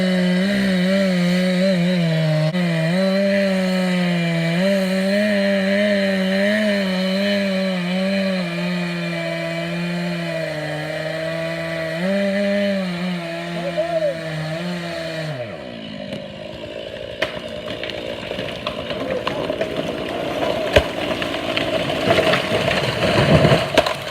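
A chainsaw cuts through ash trees, its engine droning loud and near with wavering pitch as it works through wood, then cutting off midway to rustling, cracking and clatter.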